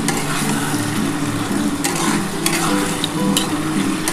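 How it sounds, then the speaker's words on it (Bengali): Paneer pieces are stirred and fried in a pan for restaurant-style dry chilli paneer. A loud, continuous sizzle sits close under busy scraping strokes, with a few sharper clatters of the spatula. "ভালো করে পনিরটা দিয়ে নাড়াচাড়া করতে হবে"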